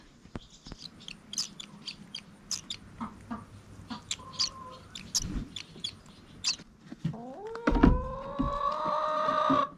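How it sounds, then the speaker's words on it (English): High, thin chirps of baby birds repeat rapidly and irregularly, with a louder clucking call and a rising squawk near the end. "I hear baby birdies"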